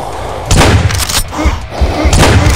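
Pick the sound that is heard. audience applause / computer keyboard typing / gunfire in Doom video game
gunfire in Doom video game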